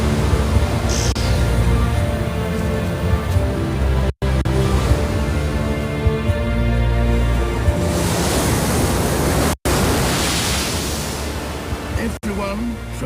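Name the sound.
waves on a forest beach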